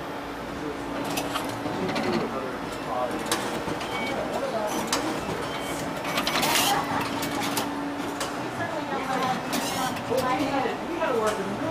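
A printer machine runs with a steady mechanical churn of whirring, clicking and rattling parts for about twelve seconds, with voices faintly in the background.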